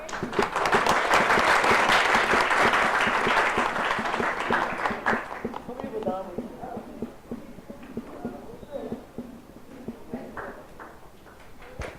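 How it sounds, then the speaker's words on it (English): A panel audience gives dense, lively clapping for the panelists that fades after about five seconds into scattered individual claps, with voices talking underneath. "We can have some claps,"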